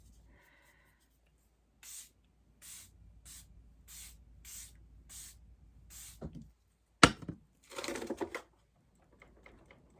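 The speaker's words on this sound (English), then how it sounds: "Now I'm gonna spray my face." Several short bursts of a pump spray mist in quick succession, close and crisp, followed by a few soft rustles; setting spray misted onto a face.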